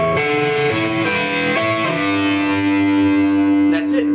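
An electric guitar plays a fast tapping lick, with tapped and pulled-off notes ringing through distortion and effects in a rapid, legato run.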